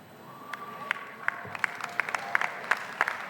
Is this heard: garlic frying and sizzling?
no